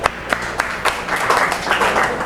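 Audience applause at a CodeDay opening ceremony: moderate, steady clapping from a crowd in a room, with sharper individual claps standing out over a continuous patter.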